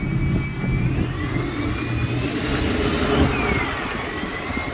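Alexander Dennis Enviro 200 MMC bus with a Cummins 4.5 litre four-cylinder diesel engine, heard as a steady loud engine drone with rising transmission whine, continuous and close throughout.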